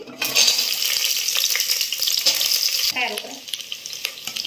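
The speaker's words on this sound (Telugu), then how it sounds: "ఫస్ట్ పలావాకి వేసి బాగా వేపుకోవాలి ఆకు వేగిన తర్వాత ఉల్లిపాయలు వేసుకోండి" Bay leaf and onions frying in hot oil for mushroom pulao, a loud continuous sizzle close by, with a few scraping stirs of a spoon in the pan and no talking.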